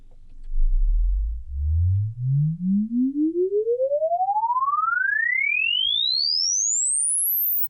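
A pure sine sweep glides smoothly from about 20 Hz up to 16 kHz over several seconds, starting as a low mono hum and widening into stereo as it climbs, steady and moderately loud, ending abruptly.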